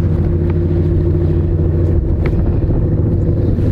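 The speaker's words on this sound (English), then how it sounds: "Get away from the exhaust." Vehicle engine running with exhaust outside during an April blizzard in Wisconsin, a loud steady low rumble close by, with wind buffeting the microphone and no talk.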